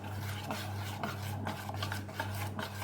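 A spoon stirs and scrapes steadily through creamy milk dessert thickening in a pan, soft repeated rubbing strokes over a constant low hum, close and quiet with no talking.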